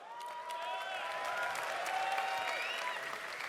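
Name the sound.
audience applause at RuneFest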